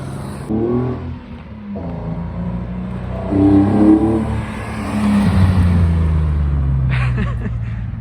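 A BMW E36 engine with individual throttle bodies revs hard several times, rising and falling in pitch, then accelerates with a sustained loud roar.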